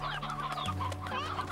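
Hens cluck in the video game Slime Rancher, a close, steady run of short clucking calls that fills the whole brief moment with no talk.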